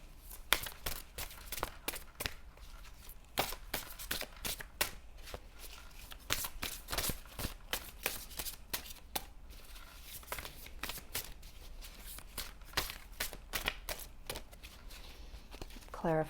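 Oracle cards being shuffled, with steady close flicking and slapping that continues for the whole stretch, irregular taps in dense rhythm and no pause.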